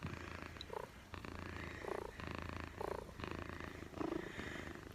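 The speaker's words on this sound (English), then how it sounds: "See, listen to that purring." A cat purrs steadily up close, a low rumbling vibration with soft rhythmic pulses, no voices over it.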